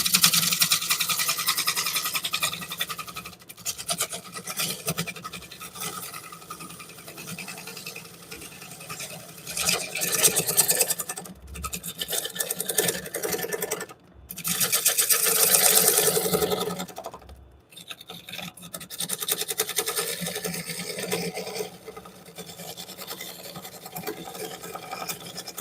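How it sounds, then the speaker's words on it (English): An oak burl spins on a wood lathe while a gouge makes scraping, smoothing cuts, giving loud rasping bursts that rise and fall, broken by short pauses between passes over a constant motor whine. "you can then use that as a scraper for making some of these scraping or smoothing cuts"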